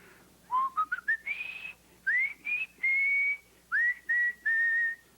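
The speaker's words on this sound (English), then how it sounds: "so he would whistle" A clear whistled melody with rising slides into held notes, phrased in short bursts separated by brief pauses, close and alone.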